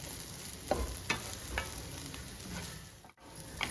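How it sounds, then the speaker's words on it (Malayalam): Raw plantain mezhukku is stirred in a pan, giving a handful of distinct scraping knocks over a faint, soft sizzle, heard close and quiet with no voices. "നമ്മൾ ഇടയ്ക്കിടയ്ക്ക് മൂടി മാറ്റി ഇതൊന്ന് ഇളക്കി കൊടുത്തോണ്ടിരിക്കണം."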